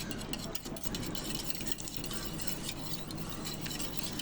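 Four eggs are beaten with a hand whisk in a bowl for caramel pudding, producing a dense, continuous, fast scraping and clattering that stays loud and close throughout.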